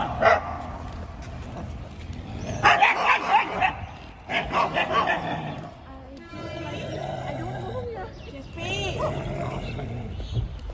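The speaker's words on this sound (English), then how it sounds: "Dog." A dog barks in several short bursts against a busy indoor background, with people talking and moving around nearby.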